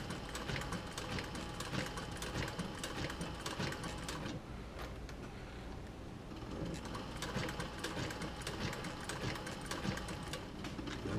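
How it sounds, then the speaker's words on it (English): A sewing machine back-stitching leather for a camera bag runs in a continuous mechanical whir with a rapid needle chatter, briefly easing around the middle before picking up again, moderately close and steady, with no voices. "And I'll go back and do my back stitch."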